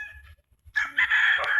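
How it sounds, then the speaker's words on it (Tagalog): A rooster crows once, fairly close and clear, after a brief lull with low background rumble. "Ito na yung manok mga idol."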